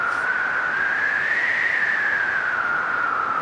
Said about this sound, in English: you can hear a little whistling tone